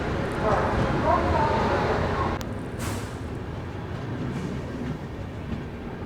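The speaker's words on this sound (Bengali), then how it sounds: "আর আমার ট্রেন বর্ধমান রেল স্টেশনে 2 নম্বর প্ল্যাটফর্ম থেকে ক্রস করছে।" The Patna Janshatabdi Express passes through platform 2 at Bardhaman station, heard from on board as a steady rolling rumble with a brief sharp clatter midway, while a voice talks over it.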